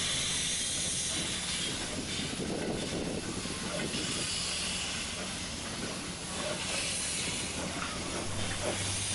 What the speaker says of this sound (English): 2636 pushes a long train into the main siding